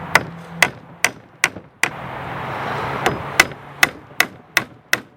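Nails are hammered into a wooden window sash: about a dozen sharp, ringing hammer blows come in uneven clusters, close and loud, with a brief rustle in the middle and no talking.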